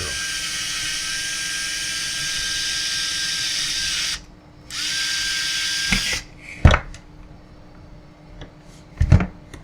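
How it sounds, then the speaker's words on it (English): A power drill whines steadily for several seconds drilling a metal suspension link for an MN99s model vehicle, pauses briefly, then runs again, followed by a few sharp knocks and clunks nearby. "I'm drilling it before I cut it because there's already a hole there for the screw."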